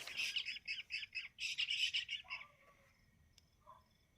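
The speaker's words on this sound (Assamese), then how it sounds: "এই সময়ত চৰাই কান্দিলে বেয়া নেকি" A bird calls at night near a field hut, a run of loud harsh squawking notes in rapid bursts, then a pause and a few fainter chirps from further off.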